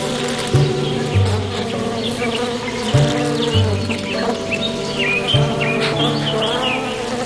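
A dense, steady buzzing of many angry bees swarming close by at a hive, with a low droning hum and sharper insect whines rising and falling throughout.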